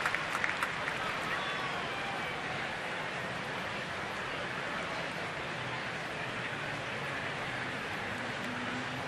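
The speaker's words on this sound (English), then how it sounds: "And a very quiet crowd applauds." A quiet baseball crowd applauds at a Phillies at Washington game, a steady even wash of distant clapping and crowd noise that holds at an unchanging level throughout.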